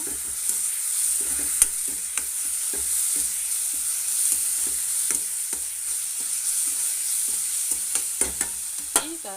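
Ginger garlic paste frying in a pan gives a steady high sizzle, while a spoon stirs it in regular scraping strokes, close and even with no voices.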